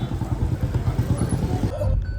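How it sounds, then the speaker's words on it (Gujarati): A Honda Activa scooter carrying a trolley bag hums along with a pulsing low engine drone, close and steady, before the sound thins out near the end. "આ જો એક્ટિવામાં ટ્રોલી બેગ લઈને નીકળી ગયા"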